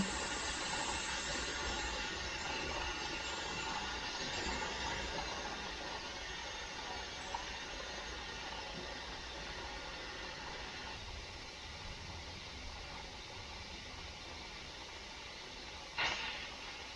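Steady loud hiss of steam venting from a pressure canner processing green beans on a large stovetop burner turned to high, a broad continuous rush filling the whole stretch with a brief sharper spurt near the end.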